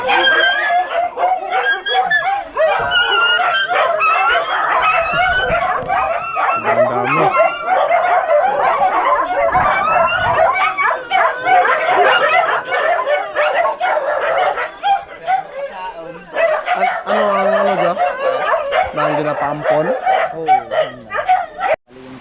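Several dogs bark, yip and whine almost nonstop, close by and loud, with a voice talking now and then among them.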